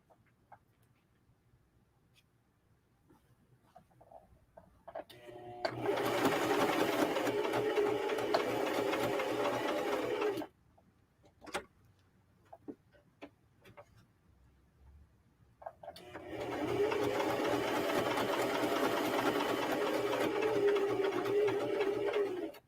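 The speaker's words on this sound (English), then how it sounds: "I'm just stitching it down around the edges" A sewing machine runs a long, loose straight stitch around the edges of a hoodie made with puff heat-transfer vinyl and scrap fabric, sounding in two steady, loud bursts of about five seconds each, with quiet clicks and handling between them.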